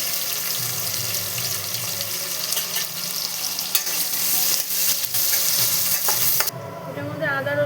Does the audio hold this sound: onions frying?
yes